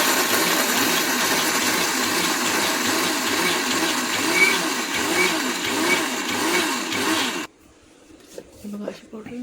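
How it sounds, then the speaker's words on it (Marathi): A mixer grinder pulverises roasted peanuts into powder, whirring loudly in a rapid pulsing rhythm for several seconds before cutting off, leaving faint handling noises. "आपण मिक्सरच्या भांड्यात मागे पुढे करून बारीक करायचं"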